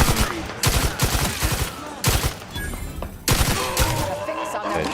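Rapid automatic gunfire from the video game The Outer Worlds 2 comes as loud, close bursts of shots, roughly four volleys separated by brief pauses.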